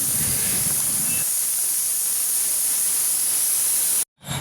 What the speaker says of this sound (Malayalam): ഇനി നമ്മൾ കുക്കർ അടച്ച് വെച്ച് ഒരു 5-6 വിസിൽ വരുത്തിക്കാം.